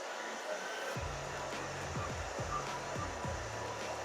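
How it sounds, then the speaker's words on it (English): A handheld hair dryer blows steadily and close while drying freshly cut short pixie hair at a salon, a continuous loud whoosh with soft thumps and brushing sounds from the hair being handled. "now we're gonna dry it"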